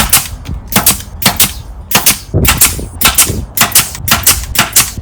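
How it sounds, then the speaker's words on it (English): Brad nailer firing into 2x4 wood on a pallet, about ten sharp, loud, close pops in a fairly steady rhythm with short gaps between shots. "we're gonna brad nail it in place"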